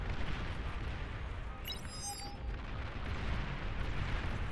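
Artillery fire from Hounds units in a Beyond All Reason 8v8 match on the Riverrun map: a dense, rumbling barrage of distant booms, with a brief high whine partway through.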